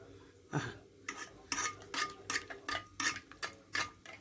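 A dough mixture with a splash of milk is stirred in a pan, giving faint, rhythmic scraping strokes in steady bursts with no talk.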